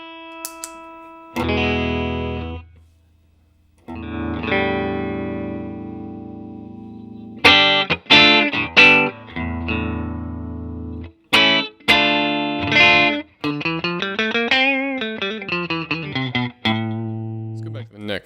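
Guitar through a RAT distortion pedal with the gain all the way down and the volume up, nearly clean: ringing chords and single notes, then choppy strums and a quick run of bent lead notes, with short pauses between phrases.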